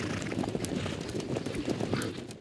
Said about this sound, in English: Kicking up their hooves and charging out of the gate, the 150 or so horses